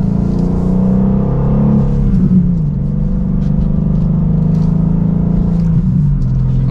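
A 2024 BMW M2 with a manual gearbox accelerates hard from second gear, its engine note loud and steadily climbing in pitch, with a brief dip around a shift before it pulls on again.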